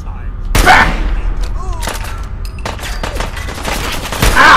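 Gunshots in Fallout 4 crack out in sharp bursts, loud and close, mixed with a player's voice and game sounds.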